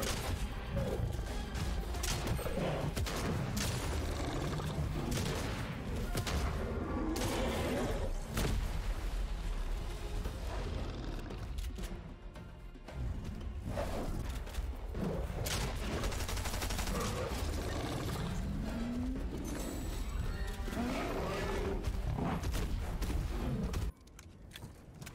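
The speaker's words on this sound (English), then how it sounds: "Just jump and shoot." Rapid bursts of shotgun and SMG fire in a Fortnite Chapter 3 match, loud and nearly continuous for the whole stretch with short breaks, mixed with other game noise.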